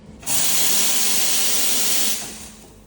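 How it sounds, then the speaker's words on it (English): A coffee machine's steam wand bursts into a loud, steady hiss, likely steaming a jug of milk. It holds at an even level for about two seconds, then drops to a softer trailing hiss. "Now we want to steam. So we grab the steam one from here."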